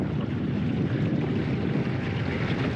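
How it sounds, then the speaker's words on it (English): An all-electric jon boat's motor runs up during a speed test on the water, giving a steady, loud, broadband rush of hull, water and wind noise that holds constant throughout, with no speech. "do a quick run on the motor before I drop the trolling motor in"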